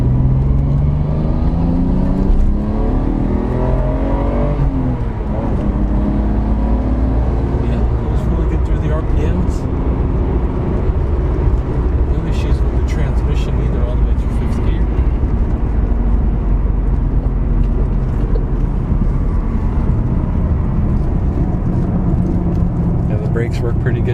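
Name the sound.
Nissan Skyline GTR R33 accelerating through the RPMs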